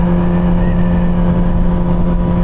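Yamaha R6 sport motorcycle engine droning steadily while being ridden on a commute, a loud continuous hum with a strong low tone and slight pitch shifts, no speech.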